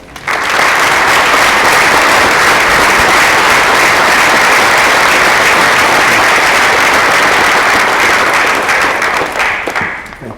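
An audience applauds warmly to welcome a business ethics professor to the stage, sustained loud clapping for about ten seconds that swells quickly and fades slightly at the end.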